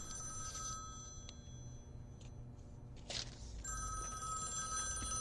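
A telephone rings in a scene from a John Wick film, a trilling electronic ring that repeats in bursts over a low background hum.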